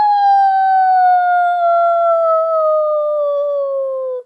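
A dog howls one long, loud, sustained note close by, the pitch slowly sliding downward like a siren before cutting off sharply, with no other sounds around it.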